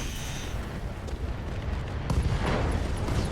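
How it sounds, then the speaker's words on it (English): Ammunition for short-range missiles cooks off and tears apart a Jenner mech in the RogueTech game, a rumbling, crackling blast roar with a sharper burst about two-thirds through, continuous and fairly loud with no talk. "SRM ammo explosion into one dead Jenner"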